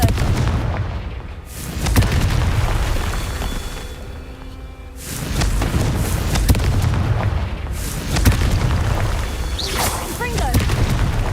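Repeated Confringo blasting-spell explosions in Hogwarts Legacy, loud booms arriving in several bursts with brief quieter gaps between them, a voice speaking over the blasts.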